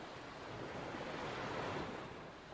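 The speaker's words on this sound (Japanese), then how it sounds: "同じような海のうねり。" Ocean swell rolling onto a hometown beach: a steady, loud wash of surf that builds slightly toward the middle, mixed with wind, with no talking.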